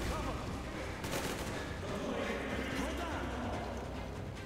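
Dense gunfire in the video game Metro Exodus, a rapid clatter of shots layered over a loud, busy game soundscape with voices, sustained throughout without pause.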